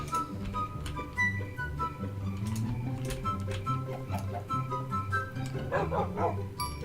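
A dog barks a few times in the Banished city-building video game, faint and brief beneath steady background game music.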